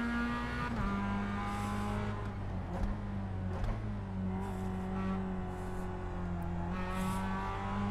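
Mazda MX-5 Miata race cars in the iRacing simulator, a continuous buzzing four-cylinder engine drone that rises and falls with gear changes, occasional tire squeal, steady and close throughout.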